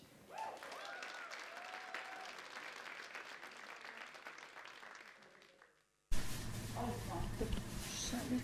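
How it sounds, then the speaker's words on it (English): Audience applause at an open mic night during a fashion festival, sustained clapping that fades to near silence, then a louder burst of crowd noise cuts in abruptly. "Please, big applause for Maja Simišić."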